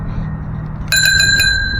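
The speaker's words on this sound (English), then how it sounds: "This bell came off of a 1960s bike." A bell taken from a 1960s American bicycle rings several times in quick succession, bright and close, over a low steady background rumble.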